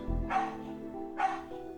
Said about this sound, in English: Doggo bark.